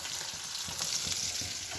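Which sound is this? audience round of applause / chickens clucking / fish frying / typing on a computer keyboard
fish frying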